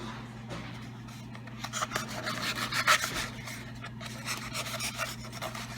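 A knife slits through a cardboard paper towel roll with a steady scraping, rasping cut that swells into a louder burst midway, heard close over a low constant hum.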